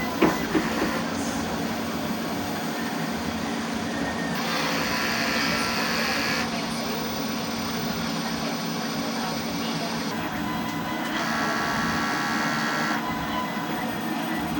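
A printer runs its head-cleaning cycle, a continuous mechanical whir and rattle with shifting motor tones and clicking passes, steady and fairly close for the whole stretch.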